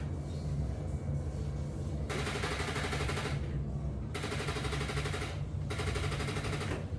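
A Honda Click 110i scooter with a weak battery fails to start, giving three bursts of rapid, rattling clicks separated by short pauses over a constant background hum.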